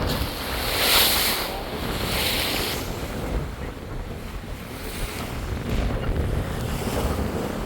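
A boat under way on a river, with steady rushing water and wind noise buffeting the microphone throughout and no engine note standing out.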